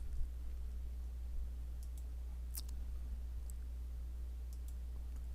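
Computer mouse clicks sound alone over a low steady hum while investment software is used: a few sharp, isolated clicks spread irregularly across the span.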